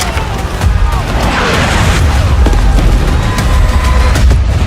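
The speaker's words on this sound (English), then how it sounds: "Returning gunfire in the streets of Cairo." Loud, dense bursts of Battlefield 6 multiplayer gunfire and booming explosions in the streets of Cairo over a continuous rumbling battle din, with faint voices mixed in.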